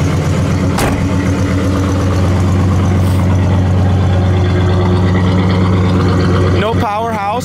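A 1968 Oldsmobile Cutlass S runs at a close, loud, even idle with a steady low rumble, followed by a brief rise and fall in pitch near the end.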